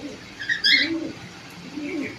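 A pigeon of original bloodline, a high-flying breed kept in a loft, gives a few soft, low coos over about two seconds, quiet and close, with a brief brighter note near the middle.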